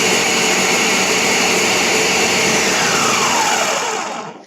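A household blender runs at full power with a loud, steady motor whine that holds constant, then spins down and stops just before the end.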